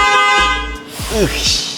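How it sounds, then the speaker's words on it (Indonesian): Horn of a Toyota Century luxury car: one loud, steady honk close by lasting under a second, followed by someone talking. "Kita dengar suara klakson dari Toyota Century."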